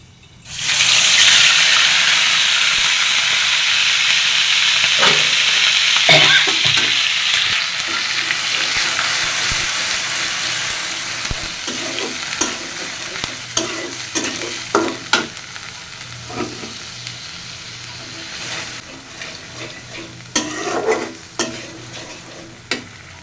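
Cumin, ginger, onion and garlic paste frying loudly in hot oil, a strong continuous sizzle with scattered stirring scrapes and clatters as the spices cook, settling slightly quieter after the first few seconds.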